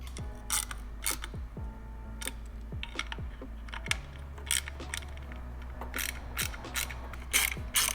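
A ratchet tightens the screws on a Bonamici engine cover being fitted to an Aprilia RSV4 motorcycle, giving close, crisp bursts of rapid pawl clicking repeated many times at an uneven pace, with no talking.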